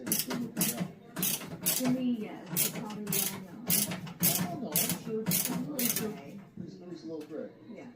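Screws on a desktop computer's graphics card are undone, giving repeated sharp mechanical ratcheting clicks in quick bursts close by while someone talks over them.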